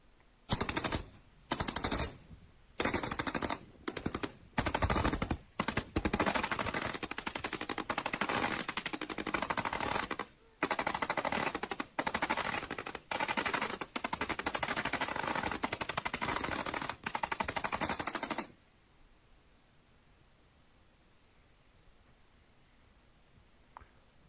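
Rapid bursts of automatic fire from a multiple-barrel air defence system shooting at kamikaze drones, loud and close, in repeated long volleys with brief gaps, then falling to quiet background for the last few seconds.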